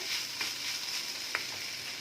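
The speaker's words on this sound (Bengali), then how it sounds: "আর এবার একটু ভাজা ভাজা করে নিচ্ছি। গ্যাসের ফ্লেমটাকে বাড়িয়ে দিলাম।" Chicken mince frying with ginger and garlic in a pan over a raised gas flame, a steady soft sizzle with a couple of faint stirring taps, close and alone.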